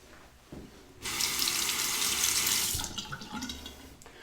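A tap gushes into a sink as a Shibumi Japanese replaceable-blade razor is rinsed, a loud steady hiss of running water that starts abruptly, holds for about two seconds, then breaks into splashing and trickles.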